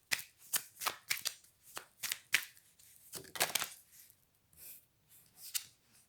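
Playing cards are shuffled in a close series of sharp riffling bursts with short pauses between them, with no talk.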